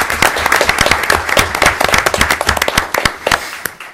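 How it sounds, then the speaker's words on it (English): Applause for teachers at a school board meeting: a sustained round of clapping from the audience, many hands with dense irregular claps, fairly loud and close, running throughout without talk. "Please give these teachers another round of applause."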